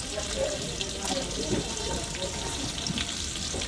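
Cinnamon and cardamom fry in hot oil for bhuna khichuri, giving a steady, hissing sizzle with faint clinks and stirring close by.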